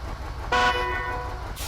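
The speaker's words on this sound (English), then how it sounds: "Oh yeah, I got the horns, I invested in that, that cost money." A truck horn in the off-road driving game SnowRunner gives one clear, steady blast lasting about a second over a low engine rumble.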